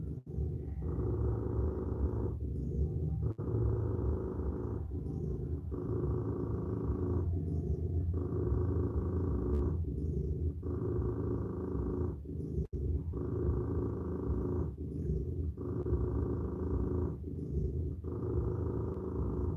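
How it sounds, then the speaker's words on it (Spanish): Recorded cat purring played through an Alexa smart speaker, a continuous close rumble pulsing in an even rhythm of long breaths, about eight cycles, with no voices. "Alexa, pon sonidos de gato."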